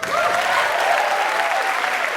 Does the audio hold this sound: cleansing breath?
no